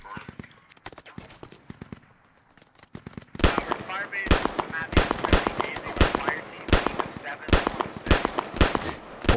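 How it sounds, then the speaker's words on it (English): .50 cal machine gun fire in the military shooter game Squad, a series of sharp loud bursts and single heavy shots in uneven rhythm, mixed with someone talking over the radio. "Lagar's down, taking 50 cal fire."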